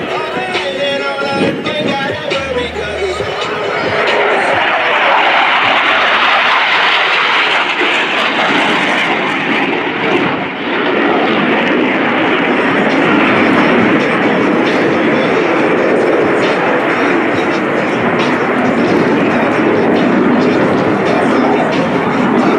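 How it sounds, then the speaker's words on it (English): Blue Angels jets at the NAS Patuxent River air show cross over show center while their pilots pull six g's. The passing engines make a loud, sustained roar that swells and rumbles steadily. "Watch as both pilots sustain 6 times the force of gravity to cross their aircraft over show center."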